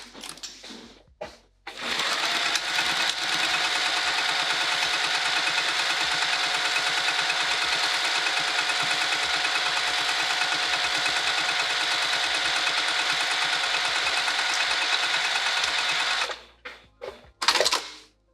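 A sewing machine stitches a bag with ruffles, running in one steady continuous burst for about fourteen seconds. A few short handling clicks come before and after it, and no one speaks.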